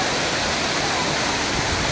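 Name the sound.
waterfall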